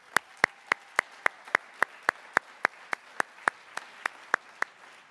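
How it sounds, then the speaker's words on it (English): Slow, rhythmic clapping at a high school athletic awards event, crisp individual claps in an even, steady beat for the whole stretch, fairly close and unaccompanied by voices. "please join me in a loud round of applause for getting us to this point"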